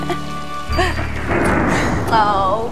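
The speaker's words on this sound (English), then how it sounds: "I hear thunder." A thunderstorm rumble rolls in with steady rain hiss during a children's song program, following a few sustained musical tones at the start and ending with brief higher sounds.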